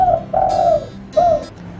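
A young pet dove, a small juvenile found by a roadside, coos in three smooth, drawn-out calls with short pauses, close and clear and alone without any talk.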